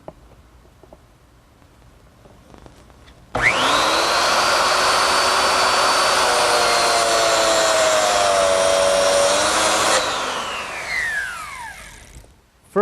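A biscuit joiner spins up with a loud whine after a quiet start, cuts slots into a wooden lid for several seconds, then winds down and fades out.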